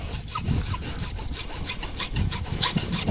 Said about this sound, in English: I like to just use my saw and cut off a little piece.